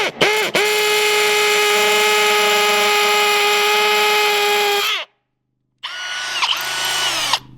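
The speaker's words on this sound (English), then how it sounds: "let's just see if we can drill through this concrete" A loud Milwaukee hammer drill bores into concrete continuously for about five seconds, stops abruptly, then starts again with a rougher, straining grind, close and alone.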